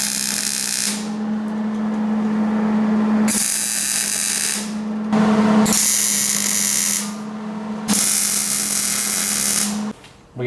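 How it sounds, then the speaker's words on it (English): A WiseFab subframe is welded in bursts, each a loud, steady buzzing crackle lasting a few seconds and separated by brief pauses, heard close up. "So now we're gonna have to go ahead and weld this."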